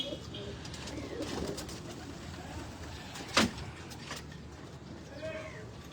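Jonsira breeder pigeons coo faintly in the background, low rolling calls mixed with a sharp brief knock midway and soft nearby voices.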